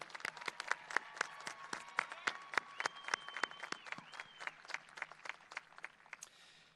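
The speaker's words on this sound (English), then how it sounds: "let's give our valedictorians one more round of applause for all their hard work." Applause from a high school graduation audience comes as a run of distinct, sharp claps from a modest number of hands, with faint whistle-like tones drifting over the clapping.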